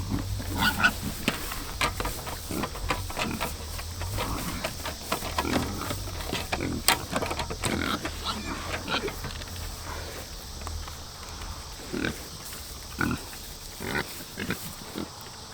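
Tame pigs in a farm pen grunt, oink and shuffle around, with bursts of grunting, scuffling and hoof steps at close range. A few scattered knocks and clatters break through.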